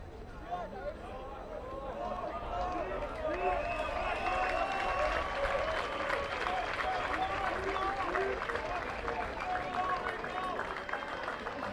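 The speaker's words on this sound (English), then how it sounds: "Schweigel and Jacobs getting a big applause as they come off the field" Crowd applause at a Selborne College versus Port Rex schoolboy rugby match as substituted players leave the field, sustained clapping mixed with crowd hubbub and voices over most of the span.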